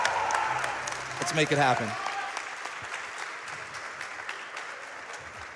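A live event crowd at a speedrunning charity marathon applauds and cheers in a short burst, fading into background murmur while someone speaks over the crowd noise.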